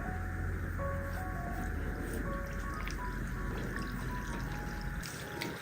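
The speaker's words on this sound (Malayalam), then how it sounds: "ഇനി ചൂടായി കിടക്കുന്ന എണ്ണയിലേക്ക് ഓരോന്നായിട്ടിട്ട് ഫ്രൈ ചെയ്തെടുക്കാം" Banana pieces frying in hot oil over a medium flame, a steady dense sizzle and crackle that holds evenly throughout, close and fairly quiet, with no talking.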